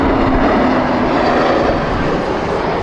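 Lufthansa Airbus A320neo jet airliner passing close by at Heathrow, a loud, steady engine roar with a droning tone throughout, no voices.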